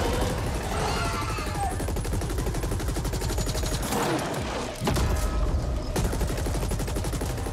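Dense, rapid automatic gunfire from enemies in a top-down shooter video game, a continuous loud rattling stream of shots with a brief dip midway before resuming.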